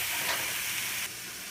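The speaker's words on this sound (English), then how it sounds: "So after this sautés for a couple of minutes" Vegetables sauté in a hot wok for pansit bihon with chicken and fishball, a loud, close, steady sizzle and hiss that abruptly drops to a softer level partway through, with no talk.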